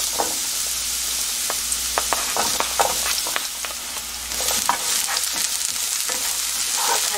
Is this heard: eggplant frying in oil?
yes